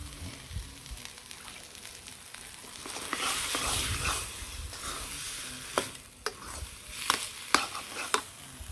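Fried onion, garlic, garam masala paste and cumin are stirred in a pan on a village kitchen fire, a soft steady sizzle broken by sharp scrapes and taps of the spoon against the pan toward the end.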